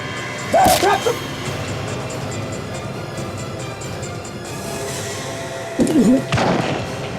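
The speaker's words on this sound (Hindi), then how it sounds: "माया सोचो मत, गोली चलाओ।" Two sharp, loud gunshots ring out several seconds apart, each with a brief booming tail, over a low background rumble.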